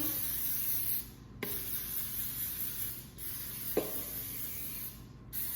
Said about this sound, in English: now I'm gonna spray my Bundt cake pan really, really good with Baker's Joy.